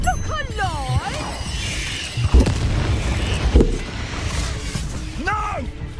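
A fire spell blast in Hogwarts Legacy, with deep booming thumps near the middle of the scene amid game effects, whooshing sparkles and a voice shouting over the action.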